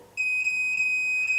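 A Labgear satellite meter emits a steady, piercing electronic beep during a signal scan, starting abruptly after a brief pause and holding as one continuous high tone with slight flutters, loud and close with no talking.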